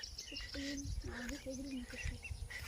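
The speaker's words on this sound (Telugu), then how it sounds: "పక్షులు కూడా చాలా ఉన్నాయి గాయత్రి." Birds chirp outdoors under low-hanging clouds, with short, high calls scattered through the clip while voices carry on nearby.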